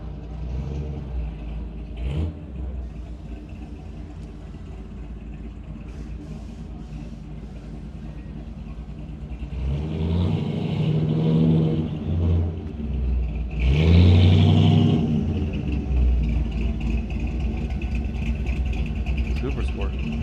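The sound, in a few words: 1961 Chevy Impala Super Sport engine revving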